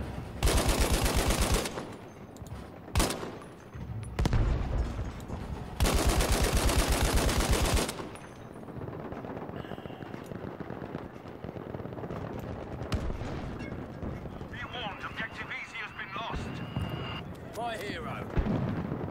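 Machine gun fire in Battlefield 5 on the Rotterdam Conquest map, with long loud sustained bursts in the opening seconds, then distant shooting and battle noise continuing under talk.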